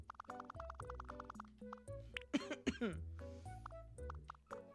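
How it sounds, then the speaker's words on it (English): Someone coughs a few times close to the mic, harsh throaty bursts over a quiet background with soft murmuring. "sorry for coughing"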